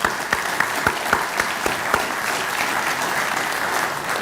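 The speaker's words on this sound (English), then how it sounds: "So a round of applause for their great work." Applause from an audience at an astronomy society monthly meeting, a steady dense patter of clapping with a few sharper claps standing out early on, filling the whole stretch at moderate loudness.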